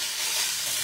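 Cheese tortellini browning in a hot pan with sausage, giving a bright, steady sizzle and hiss that stays close and even for under a second with no talk.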